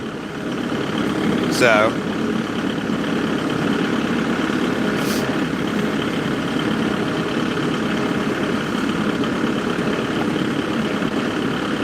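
A tractor engine idles in a steady low drone for the whole stretch, with a brief voice at the start.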